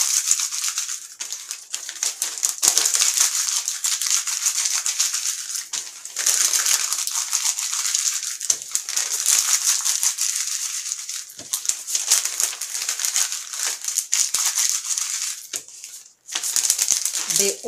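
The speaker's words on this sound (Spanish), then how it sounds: "lo que hago es que las arrugo en esta forma" Magazine paper pages are crumpled by hand one at a time, giving a continuous close crackling and crinkling with dense, rapid rustles and a short pause near the end.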